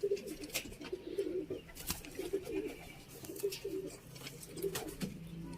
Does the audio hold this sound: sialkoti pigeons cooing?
yes